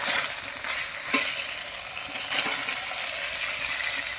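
Fried cauliflower is tipped into spiced potatoes frying in oil and stirred through, giving a close, steady sizzle with a few scraping stirs and soft knocks of the utensil.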